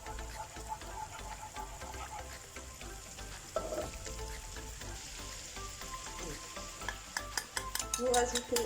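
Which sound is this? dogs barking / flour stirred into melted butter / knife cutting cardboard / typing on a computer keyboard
flour stirred into melted butter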